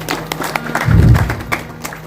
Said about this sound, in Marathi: सुंदर बाई त्यांच्याकरता एकदा टाळ्या वाजवा.